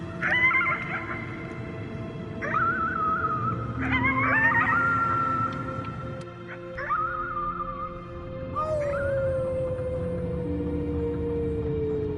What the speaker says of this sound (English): You howled at the moon at the top of your lungs.